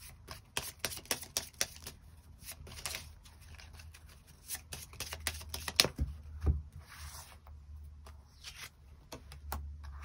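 Tarot cards shuffled and drawn during a reading, a run of quick crisp riffling snaps and soft slides near the microphone, alone with no talk.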